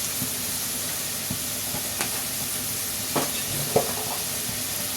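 Spices for a potato, tomato and egg curry fry in a pan, giving a steady soft sizzle with a few scattered stirring clicks and scrapes, heard alone at moderate loudness.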